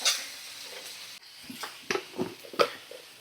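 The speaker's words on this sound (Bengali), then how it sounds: "ভালো করে নাড়াচাড়া করে নিচ্ছি।" Chopped tomato and eggplant frying in a pan get stirred with a utensil: a faint steady sizzle under a few soft scrapes and clinks, close and quiet.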